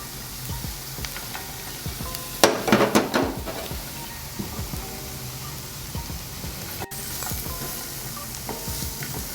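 Onions, mushrooms and frozen peas with a spice mixture fry in a pan, giving a steady crackling sizzle broken by a burst of utensil scraping and clatter partway through, with no talking.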